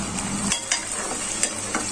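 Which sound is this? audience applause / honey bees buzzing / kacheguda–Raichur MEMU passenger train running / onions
onions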